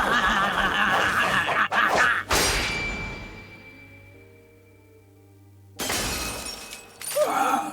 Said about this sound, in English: Olkin's sword shatters against Bojji's rapier